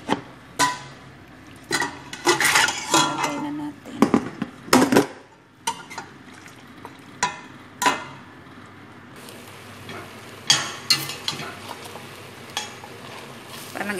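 Lamb frying with browned onions in a pan, with intermittent bursts of sizzle and stirring clatter, some louder scrapes and knocks against the pan amid quieter stretches.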